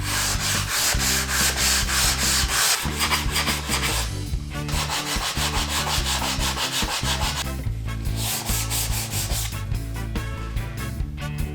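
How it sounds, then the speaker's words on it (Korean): Steady back-and-forth sanding strokes on the visible faces of a wooden desk-style storage box, close and loud, rubbing in repeated rhythmic passes with a couple of brief pauses, no voices. "보여지는 면을 먼저 샌딩하겠습니다"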